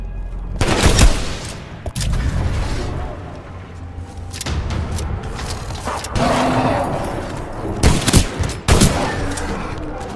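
Gunfire rattles through combat in the video game Titanfall 2, with sharp bursts and single heavy shots scattered over a continuous loud battle din, booms and mechanical clanks mixed in.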